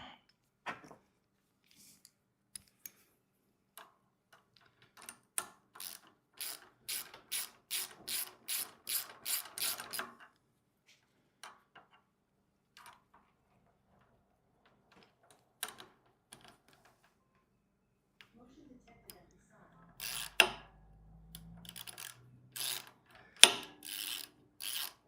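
A bolt is tightened on a gas plate compactor with a 2.8 HP 78.5cc engine, its ratcheting tool giving close bursts of quick clicks, a steady run midway and a louder flurry near the end, with quiet gaps between.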